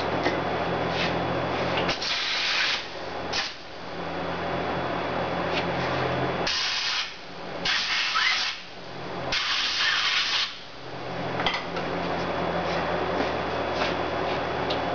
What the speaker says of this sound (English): Let me just blow those out with the air.